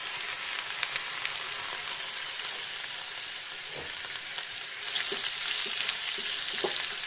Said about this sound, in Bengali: তখন ম্যারিনেট করা চিকেনটা দিয়ে দিলাম